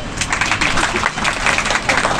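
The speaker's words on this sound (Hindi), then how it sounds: "ताली बजाओ।" An audience claps hands at a public gathering, a fairly loud, uneven patter of many hands that goes on without pause and has no clear speech over it.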